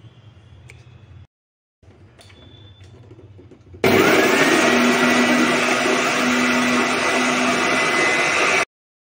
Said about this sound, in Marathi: आता हे मिक्सरमधून आपण बारीक करून घेऊया।